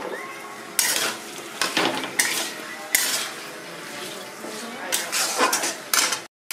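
Potatoes tipped into a pan with tomato and jackfruit for a Bengali jackfruit and prawn dish, a spoon scraping and clattering against the metal in irregular bursts over a faint background sizzle.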